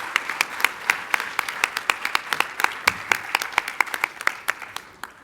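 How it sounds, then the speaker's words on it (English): Audience applause after an invited address by U.S. Representative Bobby Scott at an education research conference, steady close clapping across the whole stretch with distinct sharp hand claps standing out. "Give him a round of applause."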